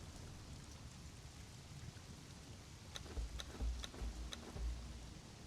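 Rain falls in the northern lands of the video game Conan Exiles, a faint steady patter with a few sharper ticking drops and low rumbles toward the end.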